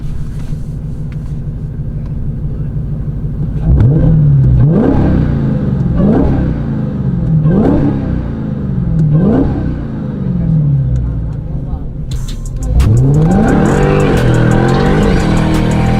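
A Dodge Hellcat revs hard at a nighttime car meet, about five rising roars in a steady rhythm followed by a longer climbing rev over a deep idle rumble, loud and close, with people talking nearby.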